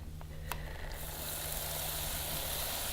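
Funnel cake batter drops into hot frying oil, setting off a steady, fairly quiet sizzle and bubbling that swells after a brief splash near the start and continues evenly without any speech.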